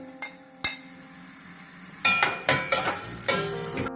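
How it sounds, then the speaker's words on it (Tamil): Cashews and raisins frying in a pan, a few sharp clinks of a spoon early on, then a burst of close scraping and crackling as the pan is stirred in quick strokes. "இப்போ காஜுவும் பிளம்ஸும் வந்து நல்ல வடிவாக வறுபட்டுடுது."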